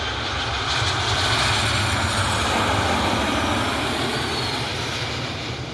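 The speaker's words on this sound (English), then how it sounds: "United Airlines 2476 inbound from Denver. This is a Star Alliance livery right here." A United Airlines jet in Star Alliance livery, arriving at Cleveland from Denver, makes a loud, sustained engine roar with a faint high whine, staying steady and close throughout.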